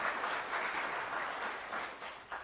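An audience applauds steadily throughout, a continuous dense patter of many hands clapping at even strength, with no speech over it.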